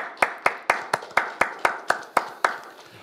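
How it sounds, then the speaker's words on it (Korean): A church congregation at a Friday all-night healing service claps in steady unison, about four sharp, evenly spaced claps per second, with no talk over it. "하나님께 감사와 영광의 박수를 올려드리겠습니다."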